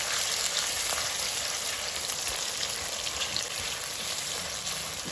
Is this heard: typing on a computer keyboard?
no